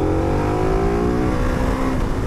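The KTM 1290 Adventure S motorcycle, fitted with the Super Duke R engine in slightly detuned form, revs loud and close. Its steady engine note climbs smoothly in pitch over two seconds.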